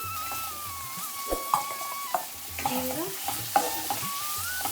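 Potatoes and eggplant fry in a pan, with a steady close sizzle broken by repeated sharp clinks and scrapes of a spatula stirring against the metal.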